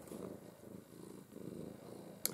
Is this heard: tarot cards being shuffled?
no